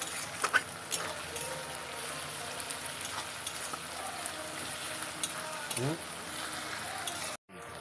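Garlic paste sizzles steadily in hot oil with spices for a homestyle mutton curry, a soft continuous frying hiss with a few stirring scrapes before it cuts out near the end.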